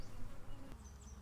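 Honey bees buzz steadily in a dense, close hum during a hive inspection, the sound of a busy hive with no voices.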